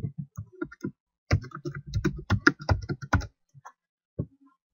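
Close, crisp tapping on a computer keyboard in uneven bursts, with quick runs of keystrokes broken by short pauses and a few lone taps near the end; no talking.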